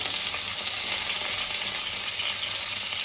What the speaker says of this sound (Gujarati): તો તેલ ગરમ થઈ ગયું તો એમાં આપણે વઘાર માટે મીઠો લીમડો નાખશું